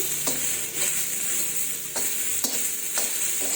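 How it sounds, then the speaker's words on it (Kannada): Spices fry in a pan with a constant loud sizzle, broken by regular scraping strokes of a stirring spoon. "ಇವಾಗ ಇದನ್ನು ಚೆನ್ನಾಗಿ ಫ್ರೈ ಮಾಡ್ತಾರೆ"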